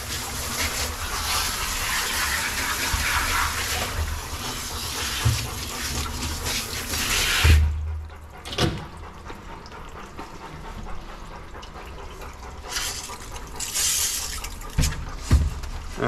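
Running water from a tap soaks the thick, long coat of a Bernese Mountain Dog during a grooming bath, a loud steady spray that suddenly drops away partway through, leaving quieter splashes and thumps.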